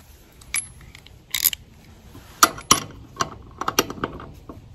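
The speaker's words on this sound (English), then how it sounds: "we have to get a regular wrench because I don't have a deep socket to finish the rest of the way" A regular wrench tightens a wheel nut on a Toro TimeCutter zero-turn mower fitted with solid no-flat tires, giving a series of close, sharp ratcheting clicks and metallic clanks in short irregular bursts.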